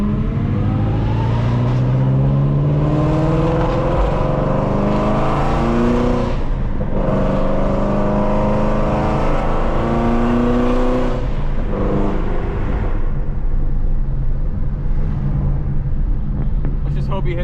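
A Lamborghini engine roars loud and close at a street car meet and takeover, revving up in rising sweeps and dropping off between pulls, with the exhaust note dominating throughout.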